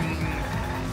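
A car skids with tire squeal and engine roar in the game Danganronpa V3, a brief loud continuous burst with no talk.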